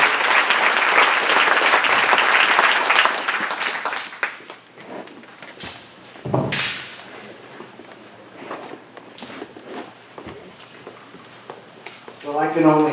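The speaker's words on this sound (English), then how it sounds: "A round of applause for Sheriff Mack." Audience applause for a sheriff at a gathering in Burns, Oregon: dense, loud clapping from a crowd for about four seconds, then thinning to scattered claps and shuffling, with a voice starting at the end.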